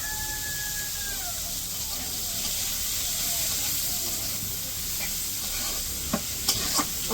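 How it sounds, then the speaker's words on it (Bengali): Pointed gourd frying in oil with onion, turmeric and chili powder, a steady close sizzle with stirring scrapes and a few sharp clinks near the end, a faint voice at the start. "এখন হচ্ছে হলুদের গুঁড়া মরিচের গুঁড়া দিয়ে পেঁয়াজ দিয়ে দিচ্ছি, এখন ভালো করে ভাজতে নিচ্ছি।"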